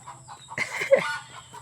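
A chicken in its coop gives a few soft, short clucks, faint and close, against a low steady hum.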